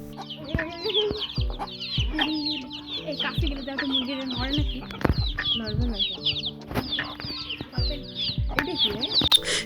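A chicken with its legs tied, clucking repeatedly up close in a rural village setting, with loud, uneven bursts of clucks and squawks over about ten seconds.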